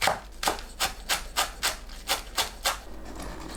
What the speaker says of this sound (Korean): 쪽파를 작게 썰어주세요